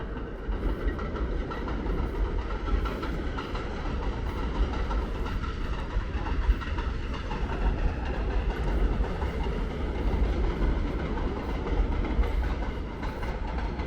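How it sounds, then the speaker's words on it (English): A train rumbles steadily past on Avenue O in Brooklyn, a continuous roar of wheels on rails with faint clacking, sustained and fairly close. "There goes the train."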